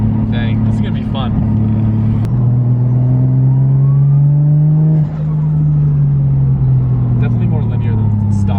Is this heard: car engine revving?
yes